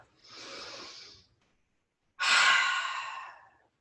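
Deep yoga breaths during a beginner hatha yoga class: one long audible inhale, a pause of about a second, then a louder, longer breathy exhale, close and alone without talk.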